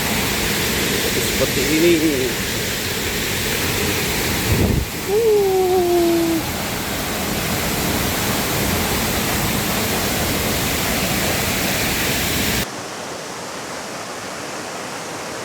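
Steady broadband rush of the Coban Lanang waterfall in Batu, loud and continuous for most of the stretch, with a brief voice speaking over it before the roar drops away near the end.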